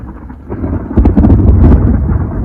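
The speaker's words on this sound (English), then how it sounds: "That's thunder." A low rumble of thunder in Oslo swells after a quiet start and rolls on loudly, with rain faintly audible around it.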